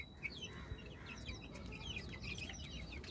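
Backyard laying hens kept with a rooster cluck and chirp in short, repeated calls, soft and somewhat distant over a low steady background rumble, with no talking.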